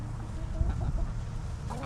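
Hens in a newly merged backyard flock cluck softly around food, short irregular clucks mixed with low rustling and farmyard background.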